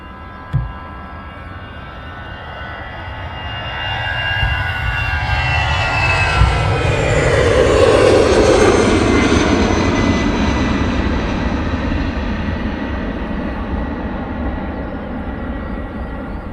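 An airplane takes off at London Luton Airport, its engine roar building from a steady rumble to a loud, broad swell around the middle, then easing slowly as it climbs away, with a faint brief knock near the start.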